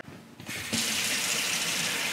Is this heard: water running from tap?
yes